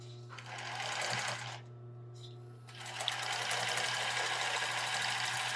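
A sewing machine topstitches a lace bra with a fast, steady hum that stops for about a second and then resumes, running close and continuous over a faint constant drone.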